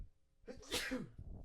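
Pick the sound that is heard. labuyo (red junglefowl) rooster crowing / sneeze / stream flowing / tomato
sneeze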